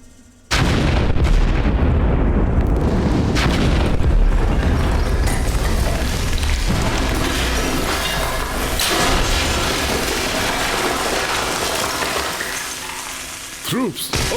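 Heavy artillery fire and explosions roar through a battle, a dense continuous barrage of booms and crackling blasts that erupts suddenly and rumbles on loudly, with sharper reports near the end.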